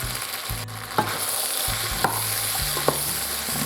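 Vegetables coated in flour with turmeric, pepper and salt cook in a pot for Polish potato soup, giving a steady close sizzle and stirring scrape, with three sharp utensil clinks against the pot.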